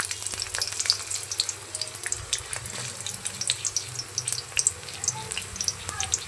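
Chopped onions fry in oil in a kadai, giving a faint, steady crackling sizzle with scattered sharp pops throughout and no talking.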